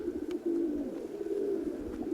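A female pigeon, a steel-coloured hen that had been ill, gives a clear low cooing call, close and steady with a rolling pulse.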